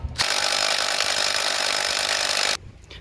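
A power tool whines loudly and steadily for a few seconds while loosening a very tight 19mm axle nut on a 1986 Kawasaki Vulcan, then cuts off abruptly into near silence.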